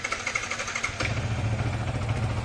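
A Yamaha R15 V3 motorcycle, just serviced with new coolant and a flushed radiator, is cranked on its self-starter and catches after about a second, settling into a steady close idle.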